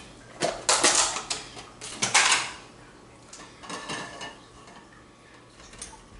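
Cheese is shredded for fondue with quick, close scraping strokes in short bursts, loud at first and then lighter and more scattered, with faint clinks from the grater and bowl.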